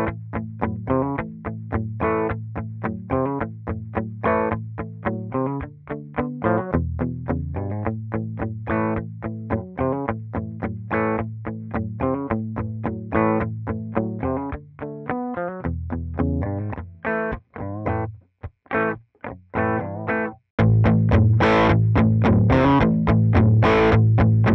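An electric guitar played through Logic Pro Amp Designer amp models, a series of distorted chords and riffs recorded dry with no effects, ending in a sustained, heavily saturated passage.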